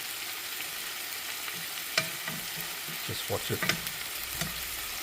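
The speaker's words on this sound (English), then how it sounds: "I just sort of like spread them out all over the frying pan" Scrambled eggs cook in a frying pan with a low, continuous sizzle, stirred now and then with soft scraping taps. A voice speaks briefly over it.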